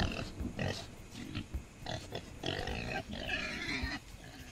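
A pig in the horror video game Mold grunts and snorts repeatedly in a busy run of close, guttural oinks that stay loud and active throughout.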